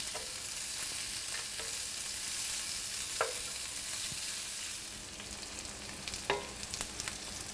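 Diced, already-cooked brisket reheating in a pan, with a steady even sizzle throughout and a few sharp stirring clicks, close and moderately soft.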